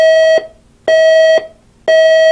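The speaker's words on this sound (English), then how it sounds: "That's the first alarm." Loud electronic alarm beeps from a 1989 GE clock radio/cassette recorder, in a regular on-off pattern, three steady tones each lasting about half a second with short gaps between them.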